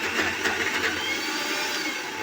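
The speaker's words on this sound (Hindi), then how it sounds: "और फिर मैंने इसमें मिक्सी दोबारा चला दी।" A kitchen mixer grinder runs with maize flour and water, giving a loud, steady whirring motor hum for the whole short stretch.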